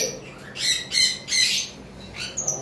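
High-mutation lovebirds and cockatiels with chicks at a bird farm squawk in loud, harsh bursts, four or five close calls in quick succession with no talking.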